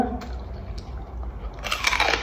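Crispy fried pork rinds are bitten and chewed up close, giving a short burst of loud crunching that grows sharper toward the end.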